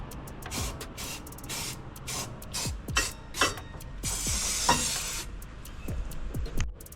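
Undercoating is sprayed onto a car's underside during custom exhaust work, a series of short hissing bursts followed by one longer spray and then more quick sprays, close and fairly loud, with no talking.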